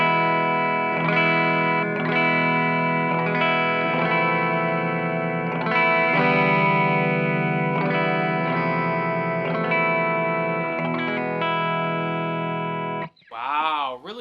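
Clean electric guitar played through an amp on its cleanest Boutique CL setting with a Weber Blue Pup Alnico speaker, sustained strummed chords ringing steadily and fairly loud for most of the passage, ending in a brief swept noise.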